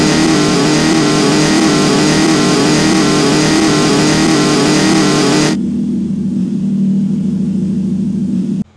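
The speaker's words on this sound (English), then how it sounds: "Weapon number four is the chainsaw." A chainsaw weapon in the video game Ravenfield roars loudly and steadily for about five seconds at high revs, then drops to a lower, quieter idling drone until it cuts off at the end; no one speaks.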